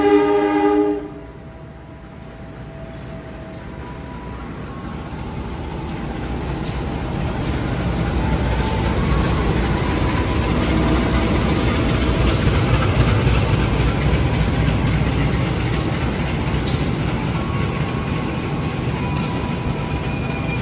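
Mataram passenger train from Jakarta Pasar Senen to Solo running steadily, with a loud continuous rumble of wheels and carriages that swells and holds, a brief horn-like tone at the start.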